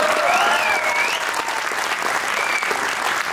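Audience applause at a cultural fest recital in Jaipur, a dense steady clapping from a crowd that carries evenly throughout, close and loud, with a faint whistle-like tone drifting over it early on.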